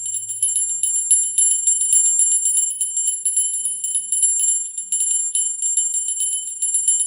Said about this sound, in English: I'm going to go ahead and ring the bell and call in our angels